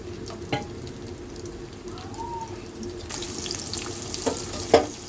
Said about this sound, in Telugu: ఆయిల్ వేసుకొని చెక్క లవంగా సాజీరా లవంగ ఇలాచీలు ఇవన్నీ వేసేసుకోవాలి వేసి ఉల్లిగడ్డ వేసుకోవాలి